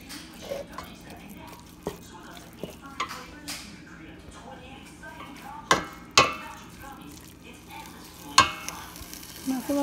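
Ground turkey picadillo seasoned with garlic and salt sizzles and fries in a pan, a steady close crackle broken by sharp scrapes and taps of a stirring utensil.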